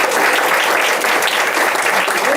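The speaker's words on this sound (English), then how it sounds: "Let's give them a big round of applause." An audience in a room applauds steadily, a dense continuous clapping at a breast cancer caucus event honoring survivors.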